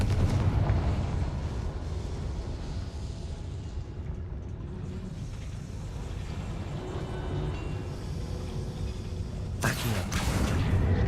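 A fiery Confringo blast spell in the Hogwarts Legacy video game: a steady, dense rumbling roar runs throughout, then a sudden sharp crackling burst breaks out near the end.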